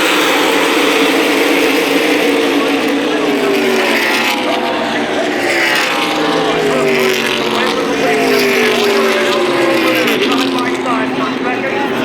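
NASCAR Cup cars race at Talladega in the 2018 fall race, a loud, dense roar of engines with rising and falling whines as the pack passes, under a commentator's talk.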